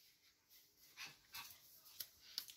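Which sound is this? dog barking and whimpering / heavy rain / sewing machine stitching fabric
dog barking and whimpering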